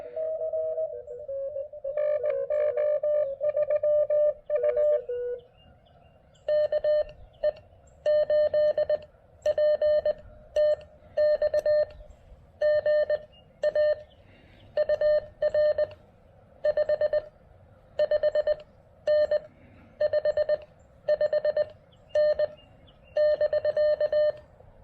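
Morse code from an amateur radio station comes through a Xiegu G106 transceiver as a steady run of clipped beeping tones in a regular on-off rhythm, clear and fairly loud, with a hiss of static underneath.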